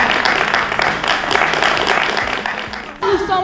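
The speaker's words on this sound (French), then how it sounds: "si c'est vraiment le moment, on applaudit très très fort" A crowd applauds in a steady, noisy wash of clapping, with voices talking over it.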